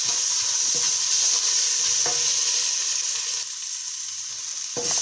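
Carrots and turnips sweat gently in a pan, giving a bright steady hiss and sizzle with occasional clicks of stirring, close by and unaccompanied by voices, easing slightly softer partway through.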